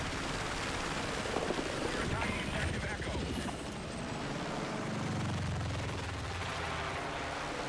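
In a video game, a helicopter drones on amid dense, continuous gunfire and booming blasts, loud and chaotic throughout, with a player's voice talking over the battle.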